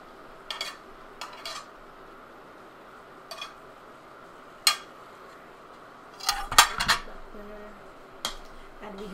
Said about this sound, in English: And we just have to keep stirring it